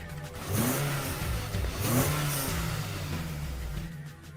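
Two cars' engines rev at the start of a mountain street race, repeated rising and falling surges of loud, close engine roar layered over a constant idle growl.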